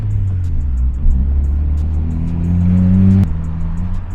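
A Honda Civic with a broken, loud exhaust revs up close, its deep rumbling drone climbing in pitch for a few seconds before cutting back abruptly to a lower idle.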